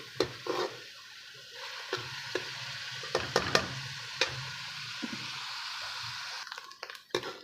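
Onions fry golden in a pan for potato egg curry, with a steady close sizzle under intermittent stirring and sharp scrapes of a spoon against the pan, no voices.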